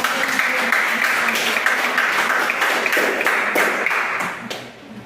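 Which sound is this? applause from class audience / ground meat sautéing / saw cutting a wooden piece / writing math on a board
applause from class audience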